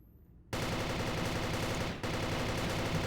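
Rapid automatic gunfire from a suppressed rifle in a video game tournament match, loud, close and continuous after a quiet start, with a brief break before the bursts resume.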